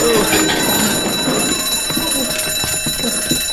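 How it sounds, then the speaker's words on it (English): A shrill, continuous electronic ringing tone holds for several seconds. Faint voices and movement sound underneath it. "What's that ringing sound? The fire alarm!"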